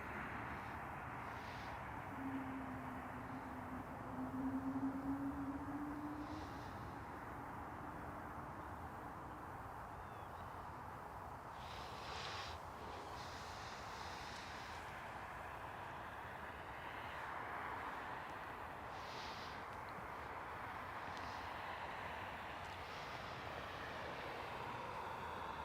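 A Porter E2 airliner at Toronto airport, a faint, distant engine roar that swells gently over a long stretch alongside steady background rumble.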